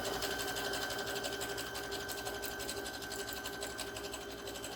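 A sewing machine runs a continuous zigzag stitch down a strip of duffel bag fabric, its needle chattering in a fast, even rhythm close by and steady throughout.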